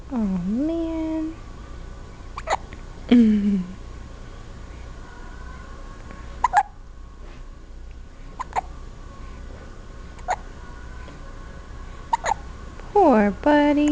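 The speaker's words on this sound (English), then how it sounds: "That Hiccups one?" Repeated sharp hiccups sound at irregular intervals, each a brief abrupt click-like jolt, close and fairly loud, with a voice speaking in a rising, sing-song tone in between.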